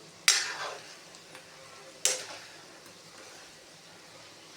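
Spices with amchur powder are stirred in a pan for amla pickle, producing two sharp metal clanks of spoon against pan a couple of seconds apart, over a quiet background.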